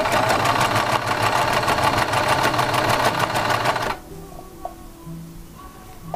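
Sewing machine stitching piping onto fabric, a loud rapid mechanical whirr with regular needle pulses for about four seconds, then it stops, leaving faint handling noises.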